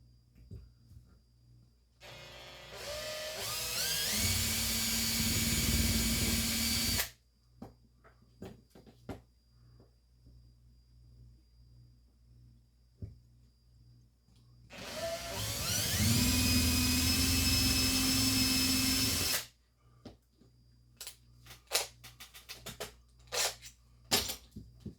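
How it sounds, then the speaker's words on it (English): Two bursts of loud, steady power drilling out a rivet in the metal base of a 1975 Hot Wheels toy van, each lasting a few seconds, separated by quieter handling clatter and clicks. "I do have the center punch marks already, so we can go ahead and get it drilled out."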